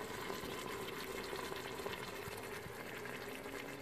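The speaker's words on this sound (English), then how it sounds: "So I'm letting this saute." Chicken pieces sautéing in an Instant Pot Duo Plus on the normal sauté setting, a faint, even sizzle and bubbling hiss held steady throughout.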